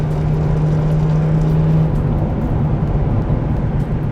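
A Dodge Ram SRT-10 truck with a V10 engine cruises in fourth gear, producing a steady, loud low drone and road roar heard from inside the cab with no break in tone.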